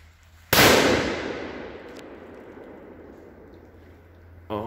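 A 3.3 gram M-80 firecracker loaded with blue flash powder goes off outdoors by a tree in a single sharp, very loud blast, followed by a long decaying echo and a faint thump near the end.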